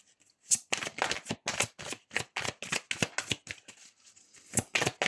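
Tarot cards being shuffled by hand: a quick run of crisp, papery riffles and flicks in an irregular rhythm, close and clear, with no talking.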